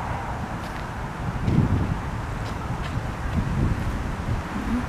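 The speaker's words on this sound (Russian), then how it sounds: "Приятно тут, правда, ветрено." Steady wind blows along the bank of the Northern Dvina river in Arkhangelsk, a moderate low rumble of microphone buffeting with a couple of stronger gusts and a faint rustle beneath.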